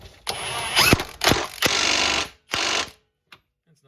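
A new Ryobi power tool drives a welded flag nut on a 1995 Jeep frame in several sharp, loud mechanical bursts of whirring and rattling with short gaps, ending in a near-silent tail.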